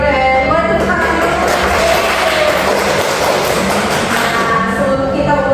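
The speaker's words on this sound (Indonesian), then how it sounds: "Boleh tepuk tangan dulu." A primary-school class of students claps together in a dense, sustained burst, with children's voices calling and cheering over it.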